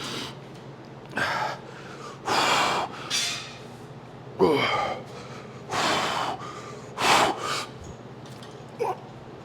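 Heavy, forceful breaths between weightlifting sets during an arm workout, about seven loud gasping inhales and exhales in uneven bursts with short quiet gaps, close to the mic and with no talking.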